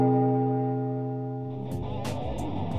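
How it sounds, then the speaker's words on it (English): Electric guitar plucked with a pick wedged between the strings, giving bell-like chiming tones: one sustained, slowly decaying chord followed by a few brighter struck notes near the end, played alone. "how to make your guitar sound like a bell by just using a pick"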